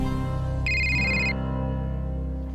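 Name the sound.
telephone ringing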